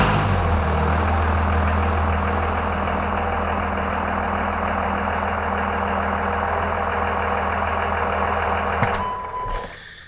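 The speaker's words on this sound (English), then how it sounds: "I'm going to show that the truck starts back up" A diesel truck fitted with a VP44 injection pump idles, a loud steady rumbling drone that holds for most of the clip before it falters and cuts out near the end.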